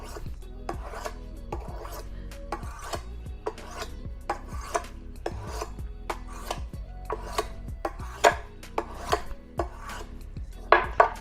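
A cheap knife scrapes back and forth on an oiled whetstone in a steady, even rhythm of rasping strokes, close and clear with no talk.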